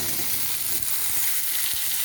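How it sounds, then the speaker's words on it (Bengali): Potato pieces frying with pointed gourd and onion in a pan, giving a dense steady sizzle close by, with occasional soft stirring knocks. "এবারে আলুটা দিয়েও কিছুক্ষণ কষিয়ে নেব, যাতে আলুটাও ভাজা হয়ে যায় পটল আর পেঁয়াজের সাথে।"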